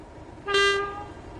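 A train horn in Train Sim World gives one short, bright toot of about half a second over a low running rumble, then fades.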